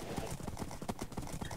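Horses gallop in a Minecraft outer-space horse race minigame, a rapid steady clip-clop of hooves running close throughout, with faint game ambience underneath.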